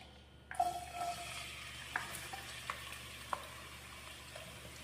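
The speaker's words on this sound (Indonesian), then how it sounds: "Kita tumis sampai dia bau harum." Rendang spice paste sautéing in hot oil: a steady soft sizzle with occasional clicks of a utensil against the pan, close by and moderate in level, with no one speaking.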